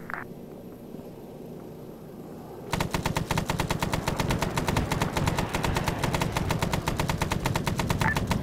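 Anti-aircraft gunfire erupts in ArmA 3 SOG Prairie Fire after a quiet start, a rapid, sustained stream of heavy automatic shots hammering in fast even rhythm until the end.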